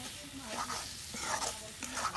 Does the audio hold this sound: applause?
no